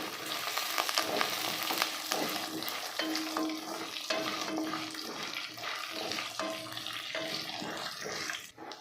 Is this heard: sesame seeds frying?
yes